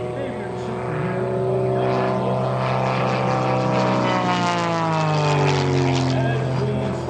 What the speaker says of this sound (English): up in the sky, Patrick McAlee series of snap rolls there in the airplane